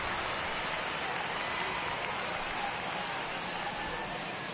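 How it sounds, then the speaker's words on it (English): Heavy rain pouring onto a baseball field during a Nationals–Mets game, a dense, even hiss of steady downpour with no letup, continuous and fairly loud. "the field's not going to be able to hold up if the rain gets any worse than this"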